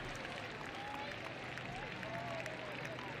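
A crowd at the Longines Grand Prix of Switzerland show jumping event reacts with applause and murmuring, a faint, distant, continuous wash of clapping and voices.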